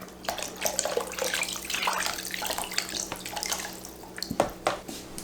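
Water pours and splashes into a pot of beef stew, with a few clinks of metal near the end, close and moderately loud.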